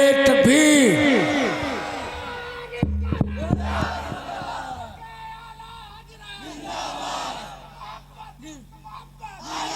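A large crowd at a religious speech gathering shouts Allahu Akbar together in loud, overlapping chanted bursts after the takbir call, followed by scattered cheers and murmuring.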